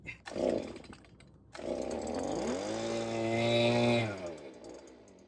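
A small two-stroke engine on a blower or chainsaw with a poorly set idle fires up after a pull, then revs roughly and surges before sagging and dying back down, loud and close.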